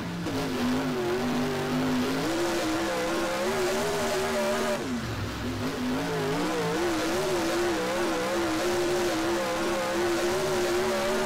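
A dirt late model car in the rFactor racing sim drones continuously around Cedar Lake, its engine note steady and loud with pitch dipping on lifts and rising again as it laps, alone without talk.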